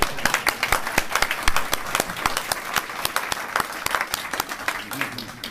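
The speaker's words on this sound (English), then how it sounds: "I said give them a great round of applause." Applause for award recipients at a Secretary of Defense disability awards ceremony, a moderate crowd clapping with distinct individual claps and faint voices murmuring beneath.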